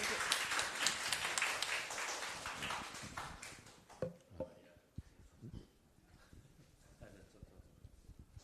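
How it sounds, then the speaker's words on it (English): An audience at a periodontics and prosthodontics academic symposium applauds a professor's lecture with dense, sustained clapping that fades after about four seconds, leaving scattered taps and shuffling in a quiet hall. "finally let's applause for Professor Lai's wonderful lecture"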